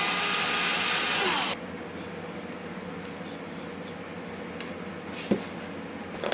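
A power drill with a 1/16 inch bit bores a hole in a QuadLugs 200 Mini+ frame, whirring loudly and steadily for about a second and a half before stopping. Quiet room tone and a few faint clicks and knocks follow.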